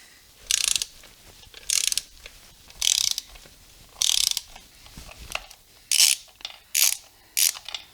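Ratchet on a torque wrench clicks in repeated short bursts while tightening the inner primary to engine bolts on a Harley Softail, about eight close, crisp ratcheting spells separated by brief pauses.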